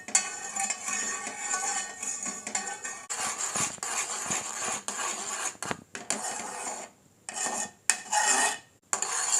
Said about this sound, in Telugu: దీన్ని అడుగంటకుండా కలుపుకుందాం